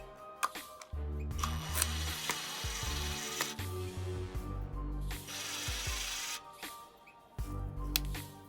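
A Toolman 21V cordless drill whirs close by in a few short bursts, removing a screw, its motor pitch shifting as it runs, with quiet pauses between.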